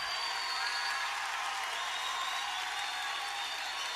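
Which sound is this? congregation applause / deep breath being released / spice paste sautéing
congregation applause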